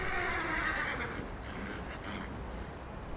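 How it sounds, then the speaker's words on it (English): Wild horses in the foothills neigh and whinny during a brief scuffle, a loud close squeal at the start that fades into rougher, scattered calls. "They wander through the foothills, grazing, and occasionally getting into little arguments."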